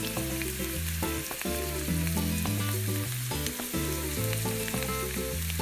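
Paella frying in a pan as cauliflower goes in, giving a constant sizzle under a prominent musical backing with shifting notes, close and steady, with no talking.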